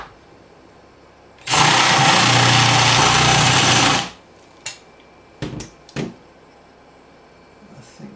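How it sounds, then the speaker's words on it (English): A power drill bores into a post on a monitor bracket in one loud, sustained burst of about two and a half seconds, then stops, followed by a few short knocks and clicks close by. "Get the drill in there."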